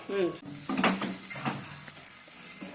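Masala sizzles in a hot pan while a utensil stirs and clinks against the metal a few times, close and fairly loud.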